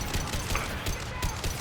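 Rapid gunfire bursts from the Mass Effect 2 video game, with a shotgun in the squad, loud, dense volleys of shots repeating across a combat scene with no talking.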